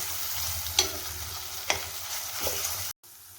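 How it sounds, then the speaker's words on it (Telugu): Onions and green chilies fry in a pan with a steady close sizzle, and a utensil scrapes against the pan in a few sharp stirring knocks before the sound cuts off. "ఆనియన్స్ బ్రౌన్ కలర్ వచ్చే వరకు వేయించుకుందాం"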